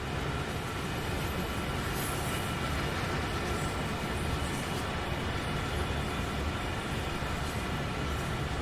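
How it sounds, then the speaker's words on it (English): In a train simulator game, a heavy freight train climbs Sherman Hill in wet snowy conditions with four locomotives pulling at the front and two pushing at the rear, producing a continuous, dense rumbling roar of engines and rolling stock. "So we've still got 4 locos pulling on the front and 2 pushing on the back."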